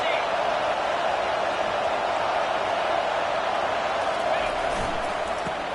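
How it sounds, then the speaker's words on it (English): A dense, continuous roar of a large football stadium crowd during Michigan vs USC, steady and loud throughout, with no distinct individual voices. "It is getting loud as this crowd tries to help its defense"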